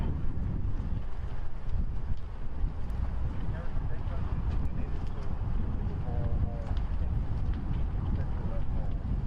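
Strong, steady wind roars across the microphone in a dry, smoky area during the Santa Rosa fire, a constant low rumble that fills the whole stretch without letup.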